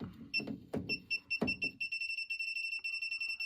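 A circuit breaker finder beeps rapidly in a steady, repeating high-pitched pulse after several sharp clicks and handling knocks, close and fairly loud, continuing on its own.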